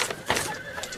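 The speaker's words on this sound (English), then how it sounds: "The horses are out of control." Out-of-control horses whinny loudly and close by in a short, strained burst, with faint clopping movement beneath.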